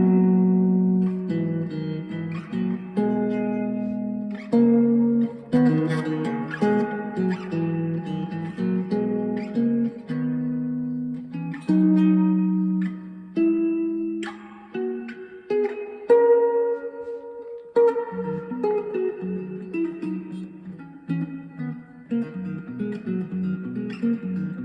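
A three-string Bible box guitar is plucked with its open root string droning beneath a melody picked on the outer strings, a steady run of clear, ringing notes heard alone and up close.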